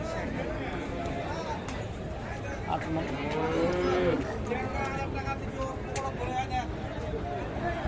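Cattle moo repeatedly at a busy livestock market at Ambari haat in Dinajpur, where beef bulls are being sold, with a steady hubbub of crowd chatter and nearby talk throughout.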